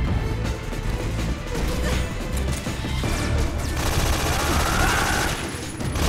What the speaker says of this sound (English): Can I shoot from a distance with my bad aim?